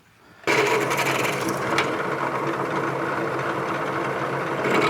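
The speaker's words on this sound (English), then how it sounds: "we're going to drill those holes a little bit bigger and chamfer them." A power drill whines steadily and continuously after a brief quiet start, a close, loud buzzing of a bit enlarging holes in a metal bicycle rear brake mount.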